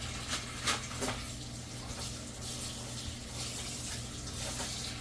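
Water is poured into a bag holding raw chicken breast while cooking chicken in chipotle adobo sauce; a steady, close pouring and splashing wash runs throughout with a few brief louder sloshes near the start.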